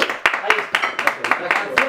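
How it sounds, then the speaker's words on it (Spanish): A studio audience applauds for a guest guitarist on a television program, rhythmic hand claps of a small crowd repeating at close range with a voice speaking over them. "Ese aplauso muy fuerte para Mercury."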